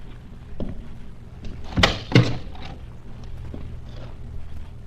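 A door swings shut in a hallway scene of a radio drama, a sharp thud followed by a second knock against a low room hum, close and without talking.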